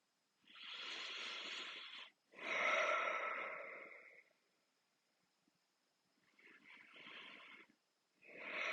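Deep, slow breaths during a rehab stretching exercise, two long airy exhales followed by a pause and then two more, close to the microphone and quiet, with no speech.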